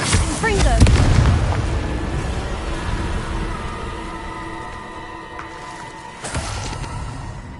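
Confringo blasting curse from Hogwarts Legacy erupts in a loud, close explosive boom with a rumbling tail, then a second burst several seconds later, with spoken voices faintly beneath.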